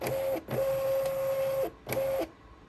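A Munbyn thermal label printer runs its feed motor in three steady whirring bursts with short pauses between them while it calibrates, close and fairly loud, with no talking.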